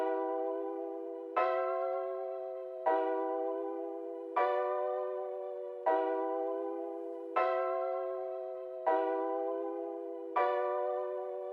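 Creepy piano one-shot from a 44 piano kit repeats in a slow, even pattern, eight bell-like struck chords about every second and a half, each decaying before the next, alone and moderately quiet.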